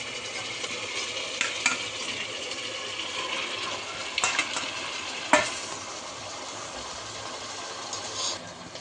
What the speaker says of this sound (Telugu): ఇప్పుడు ఆనియన్స్ ఫ్రై అయినాక మ్యారినేట్ చేసిన చికెన్ పీసెస్ వేసుకోవాలి.